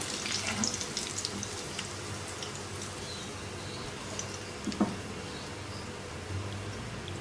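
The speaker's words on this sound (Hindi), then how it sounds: "अब बाकी के कटलेट्स भी ऐसे ही फ्राई कर लेंगे।" Bread cutlets shallow-frying in hot oil give a steady, soft sizzle and crackle throughout, with a few faint clinks partway through and no talking.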